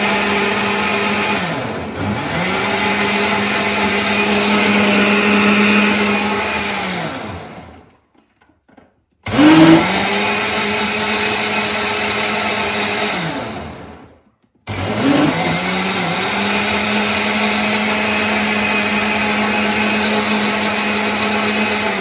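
A kitchen mixer grinder pulses in three loud whirring bursts to churn butter, each run winding down before a short silent pause, with no talk.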